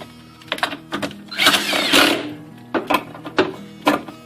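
A power tool drives a fastener on a Nissan Frontier's stock cold air intake, with bursts of whirring and rattling, a longer sustained run in the middle, then several short trigger pulses, loud and close.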